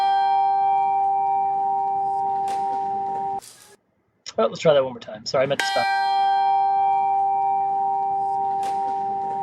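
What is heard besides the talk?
recorded bell sound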